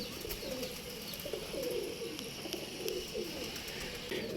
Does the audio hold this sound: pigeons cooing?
yes